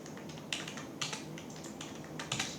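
Soft keystrokes on a computer keyboard while figures are entered into an Excel spreadsheet, a few sharper taps standing out over quiet, irregular clicking close by.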